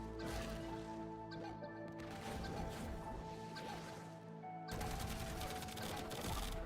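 Dense gunfire and crashing impacts from a firefight in Warframe hammer on loudly and continuously over a constant tonal game hum, with a sharper burst near the end.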